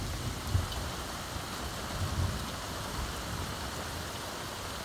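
Heavy thunderstorm rain in Toms River, a dense, steady wash of rainfall with a couple of faint low rumbles, no voices.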